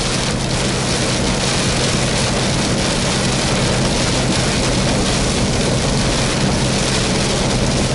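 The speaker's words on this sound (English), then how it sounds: "I told you it rains on and off, on and off." Rain drums on a semi truck cab while it drives a highway at about 53 miles an hour. The loud, steady hiss of rain blends with engine and road rumble, with no pauses.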